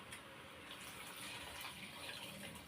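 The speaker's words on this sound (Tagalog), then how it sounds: "kasi lalagyan ko siya ng tubig" Water poured into a pot of sautéed vegetables on a home stove, a steady broadband rush and gush of liquid running continuously, close and fairly loud with no talking.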